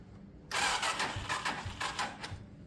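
A Lexmoto Oregon 125cc motorcycle engine cranks over on a weak battery, a close, loud run of uneven pulsing churns lasting about two seconds without catching.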